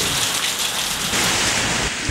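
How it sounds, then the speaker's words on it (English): Heavy rain pours down steadily on a rainy day, a dense, loud hiss of drops hitting surfaces with no voices, continuous throughout. "It's just a rainy day."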